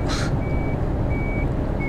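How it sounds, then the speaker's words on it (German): Reversing truck beeps in Euro Truck Simulator 2 multiplayer, a steady high electronic tone repeating in long pulses over a constant low engine rumble, with a brief brighter burst near the start. "Da fährt einer rückwärts."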